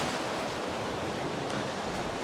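Water waves wash in with a steady, close rushing hiss of surf that stays even and continuous, with no voices.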